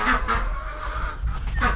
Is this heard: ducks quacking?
yes